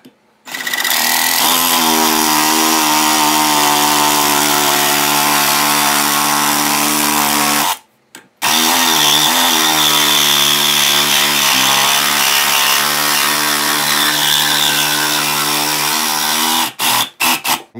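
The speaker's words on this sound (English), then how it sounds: "What I'm gonna use to cut them is my battery operated Black & Decker reciprocating saw." A battery-operated Black & Decker reciprocating saw cuts through metal ferrules for wood-turning tool handles with a loud, steady buzzing drone, stopping briefly midway and then resuming before trailing off in a few short bursts.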